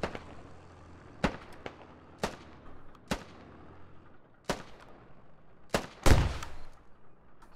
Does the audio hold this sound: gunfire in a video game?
yes